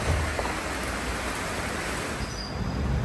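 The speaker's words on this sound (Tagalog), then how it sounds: "Tingnan nyo, biglang lumakas yung ulan." Heavy rain pours down steadily in a dense, unbroken hiss that stays loud and close for the whole stretch, with no voices.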